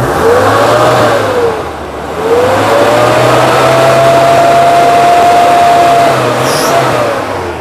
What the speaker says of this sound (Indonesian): Jadi mesin halus banget, tak blayer apa masih nggak ada asap.